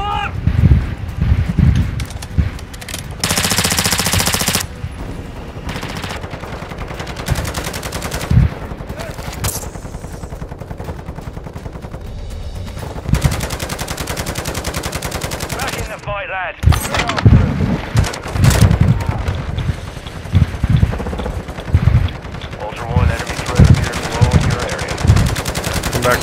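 Gunfire in Call of Duty: Modern Warfare II, with bursts of automatic weapon fire and single shots at varying distances, loud and irregular, mixed with players talking over the action.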